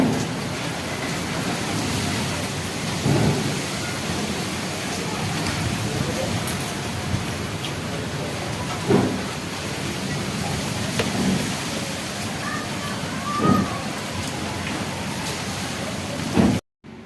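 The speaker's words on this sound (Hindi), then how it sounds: "बाहर आंधी के साथ साथ बारिश भी शुरू हो चुकी है" Steady heavy rain pours down continuously during a windstorm, with a few brief thumps and low rumbles scattered through the downpour.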